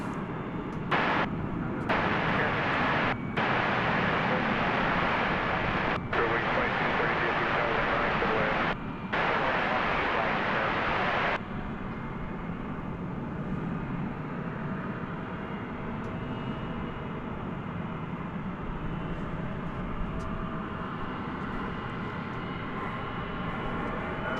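A jet airliner rolls for takeoff on runway 18 left at DFW after dark, a loud steady engine roar that cuts off abruptly partway through, then a quieter distant rumble continues.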